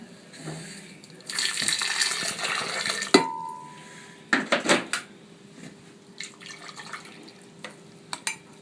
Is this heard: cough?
no